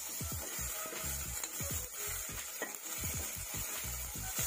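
Ginger-garlic paste sizzling in a pan over golden fried onions for paneer changezi, with a steady hiss and repeated scraping strokes of a spatula stirring in an irregular rhythm, close and alone.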